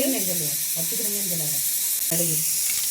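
Loud continuous sizzling and crackling of mustard seeds in hot oil in a pan, with a person talking over the frying.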